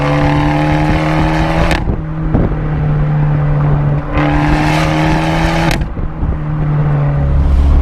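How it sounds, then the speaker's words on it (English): Exhaust of an Abarth 124 Spider with its 1.4 engine, a loud steady drone broken by two sharp bursts of popping and crackling as the revs drop, close and with no talk. "I think it pops and crackles when it's not in sport mode"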